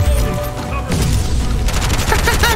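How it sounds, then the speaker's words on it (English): Gunfire in the shooter Bright Memory: Infinite, with a string of loud booming shots and crashing impacts packed close together across the whole stretch, dense and continuous, with no voice over it. "I'm firing at the fucking lamp."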